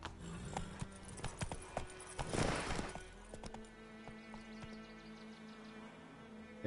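Hooves of Geralt's horse Roach clip-clopping in The Witcher 3: Wild Hunt, a quick run of steady hoofbeats with a brief louder burst midway, fading into softer ambient game sound.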